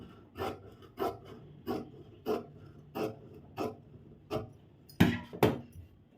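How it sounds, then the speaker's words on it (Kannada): Scissors cutting blouse fabric for a back-neck design, giving about ten evenly spaced rasping snips, close and fairly quiet, with two stronger cuts near the end. "ಈಗ ಕಟಿಂಗ್ ಮಾಡ್ಕೊಳ್ತಾ ಇದ್ದೀನಿ."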